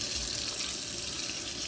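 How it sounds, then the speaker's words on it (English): Water from a faulty sensor faucet pours steadily into a sink, a constant close hiss running alone through the short stretch. "Water comes on,"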